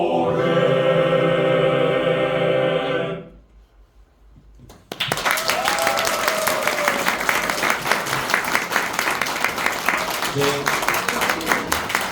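Applause from the audience at a church anniversary concert in Seoul: after sustained male ensemble singing ends and a short hush, a dense wave of clapping breaks out and continues steadily.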